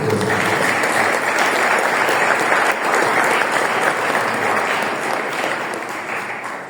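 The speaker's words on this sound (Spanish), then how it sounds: "Un fuerte aplauso para todos ustedes." An audience at an academic inaugural lecture applauds with dense, steady clapping that holds for several seconds and then fades slightly.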